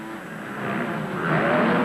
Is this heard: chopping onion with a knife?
no